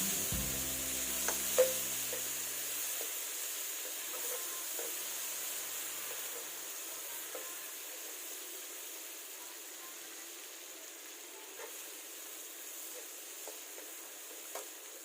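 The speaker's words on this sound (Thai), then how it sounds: "พอน้ำมันเราร้อนดีแล้วนะครับ เดี๋ยวเราก็ มาใส่พริกที่เราโคลกไว้กันเลย ผัดให้หอมๆเลยนะครับ" Pounded chili stir-fried in hot oil, a steady close sizzle and hiss with light scraping of the spatula, starting with a thump and continuing evenly without talk.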